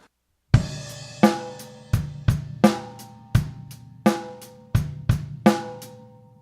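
A rock drum beat with a crash cymbal on the first beat, then hi-hat and snare, played alone at a steady moderate tempo, with sharp ringing hits and a punchy low thump under the cymbal shimmer.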